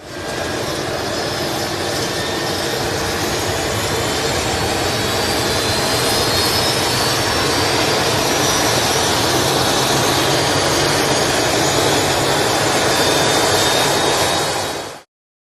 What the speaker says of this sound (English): Want a closer look at a plane caught in the act?